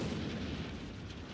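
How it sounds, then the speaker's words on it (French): Artillery shells firing and exploding in wartime Stalingrad, a dense continuous rumbling roar of booms, loud and sustained with no talk. "c'est nos artilleurs qui nous tirent dessus!"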